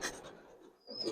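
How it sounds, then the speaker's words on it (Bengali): Griba racer pigeons cooing softly in a couple of faint, close calls separated by a brief pause, with no talk over them. "এগুলা সব ভালো কবুতর"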